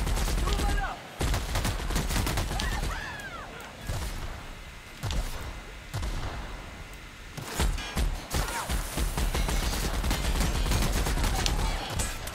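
Gunfire from a gun in The Outer Worlds, fast loud bursts and single shots with thumps and whooshes, nearly continuous with a short lull mid-clip.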